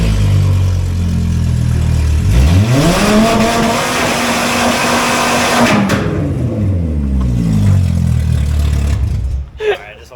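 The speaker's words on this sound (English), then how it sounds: "we're going to let him start this with no catalytic converter" A VW Beetle running with no catalytic converter revs hard and close. The loud engine note climbs, holds at a high pitch, then drops back to a rough, rumbling idle.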